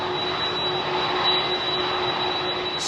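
A jet aircraft at London Heathrow Airport's runway gives a steady, loud engine roar with a high whine, continuous and close.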